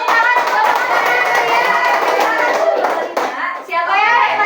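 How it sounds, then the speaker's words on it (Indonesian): Children in a primary school classroom clap their hands together in a dense, sustained burst of applause, with young voices and chatter mixed in throughout. "tepuk tangan untuk"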